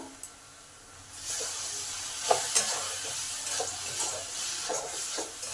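Coconut filling with fried cashews and cardamom is stirred in a pan, a dry hissing sizzle rising after a quiet start with several scraping stirs close by.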